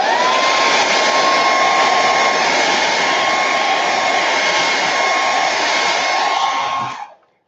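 A hair dryer blows steadily and loudly on wet paint, a continuous whooshing roar with a faint steady whine that holds for about seven seconds before switching off abruptly.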